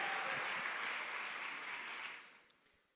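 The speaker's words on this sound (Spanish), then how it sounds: "Dele aplauso a Él." Applause from a church congregation, a dense wash of clapping at moderate distance that fades away over a few seconds.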